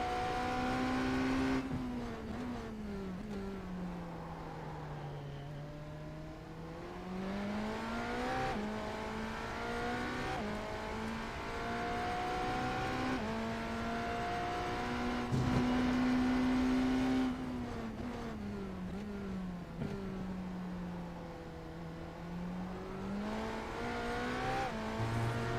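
A race car laps the Daytona Road Course, its engine droning steadily loud and close, pitch rising and falling through upshifts, downshifts and braking zones with no voices.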